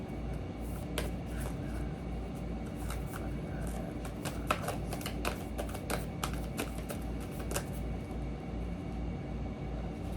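Tarot cards being shuffled and handled in a deck, quick papery riffles and taps recurring over a steady low hum, close and fairly quiet, with no one speaking.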